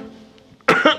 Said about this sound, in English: You just looked the other way and coughed.